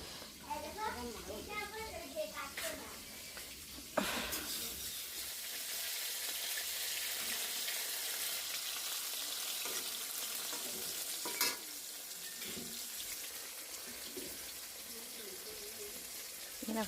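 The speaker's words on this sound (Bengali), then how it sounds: "মাছ ভাজা করে নিচ্ছি তো এখন" Six pieces of fish fry in a pan on a home stove with a constant, close hiss. People talk over it at the start, and the sizzle carries on steadily alone afterwards.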